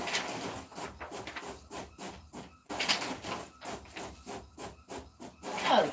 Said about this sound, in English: Silly printer.